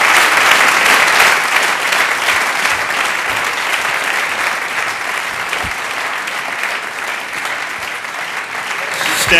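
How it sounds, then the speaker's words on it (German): Sustained, loud applause from a comedy show audience, dense continuous clapping filling the room at an even level from start to finish. "Applaus."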